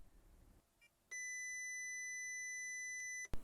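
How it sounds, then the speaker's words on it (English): Instrument cluster buzzer on a VAG-group car, triggered through a Launch X431 diagnostic tool, sounds a steady, loud electronic tone for about two seconds after a faint click, then stops abruptly. "I'll click on buzzer."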